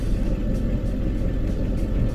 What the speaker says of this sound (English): this engine sounds like it's about to explode. You hear it?